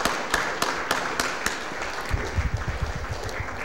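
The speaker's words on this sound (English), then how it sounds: "Let's give one more round of applause to Mrs." Clapping at a city Board of Aldermen meeting, a few sharp, scattered claps followed by a brief burst of denser applause mixed with low room noise and murmuring, moderately close, short-lived.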